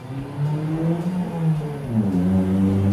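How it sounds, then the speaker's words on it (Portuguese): A car drives by outside late at night, a steady, fairly loud engine drone with shifting pitch that swells slightly as it passes over about three seconds. "Vai passar carro essa hora, nessa desgraça, de madrugada vai passar carro"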